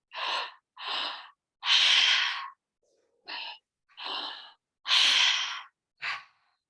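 Slow, deep breaths during a guided breathing exercise: seven separate inhales and exhales, each lasting about half a second to a second, close and clear with short silent pauses between them and no talking.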